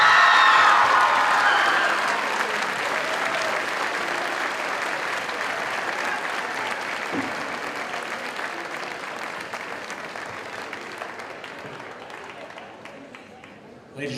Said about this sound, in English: another round of applause for our royalty and the candidates